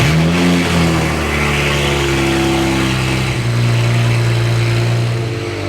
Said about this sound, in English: we're just like downpipe straight out right now. Freaking loud. But she starts right up.